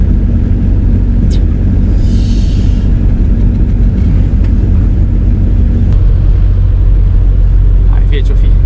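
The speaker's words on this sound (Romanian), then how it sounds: "Mergem cu buzul la școală, cu dubița" A VW T3 van driving, its steady loud low engine rumble and road noise filling the cabin continuously, with brief faint voices over it.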